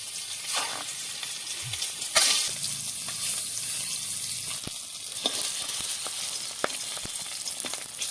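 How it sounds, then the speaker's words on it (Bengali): Eggs rubbed with turmeric and salt fry in a pan, hissing and spitting steadily up close, with occasional sharp pops and a burst of spatter early on. "ডিমগুলি ভালোভাবে ভাজা হয়ে গেলে নামিয়ে নেব"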